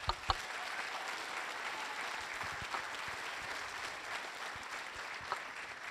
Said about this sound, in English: we can give them a round of applause real fast for that